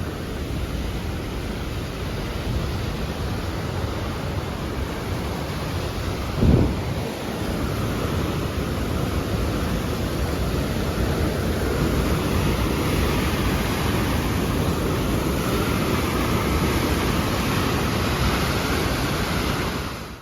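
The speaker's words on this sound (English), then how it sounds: "Back there, that was Numa Creek Falls" Numa Creek Falls roars steadily in a mountain canyon, a loud, unbroken wash of rushing water. A single brief thump stands out near the start. No one speaks.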